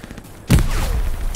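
A frag grenade explodes in Hell Let Loose as a sudden loud, deep blast, with a rumbling roar trailing off over the following second.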